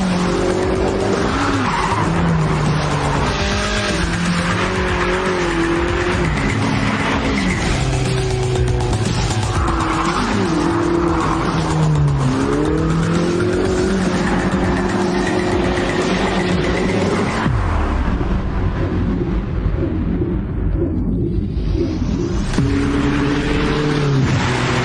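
A Ferrari drives hard with loud, continuous tire squeal and skidding over a steady engine roar. The squeal shifts in pitch throughout and eases briefly near the end before returning. No talk.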